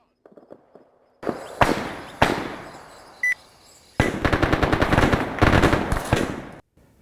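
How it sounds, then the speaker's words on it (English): Heavy machine gun fire in Arma 3 comes as a few single loud shots followed by a long, rapid burst of automatic fire, close and booming, with faint quieter sounds before it starts. "There's a heavy machine gun position that has to be dealt with."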